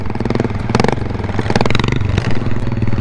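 A homemade snow mower built from leftover parts revs its engine hard in low gear, a loud continuous mid-pitched roar with rattling clatter that surges and pulses across the whole stretch.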